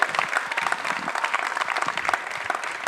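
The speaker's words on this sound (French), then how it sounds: "Est-ce qu'on peut applaudir pour Dream of Dance," A live show audience applauds a dance group called Dream of Dance with steady, dense clapping from a crowd, continuous and moderately loud without a break.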